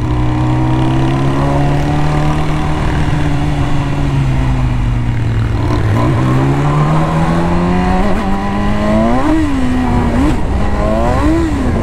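A BMW S1000 motorcycle engine drones and revs steadily on a slippery track, pitch sliding slowly before several sharp rising and falling revs near the end, loud and close throughout.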